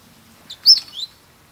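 Australian mistletoebird among mistletoe blossom gives a brief high-pitched call, a few thin chirps close together, fairly faint over quiet background.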